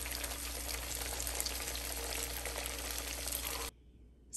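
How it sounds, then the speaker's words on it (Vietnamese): Churros sizzle and crackle in hot frying oil, a dense continuous hiss that cuts off abruptly near the end, with no voices. "Chúng ta lại chiên tiếp mẻ thứ hai bằng đuôi nhỏ 4B nha các bạn."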